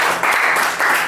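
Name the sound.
audience applause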